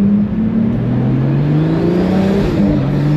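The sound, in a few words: luxury car accelerating with turbo noise in Monaco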